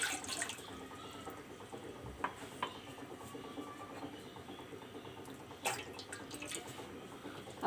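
Water running and dripping into a vessel, three cups measured out for a ginger tea or kahwa, with light splashes and a few sharper drips over a steady trickle, close by, no talking.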